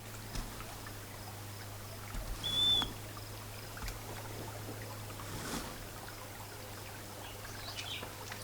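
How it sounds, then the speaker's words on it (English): A small creek flows below an off-grid yurt near the Teton Range. Its soft, steady trickle is faint and distant, with a low constant hum underneath. "Down below is a little creek, and you can hear it too."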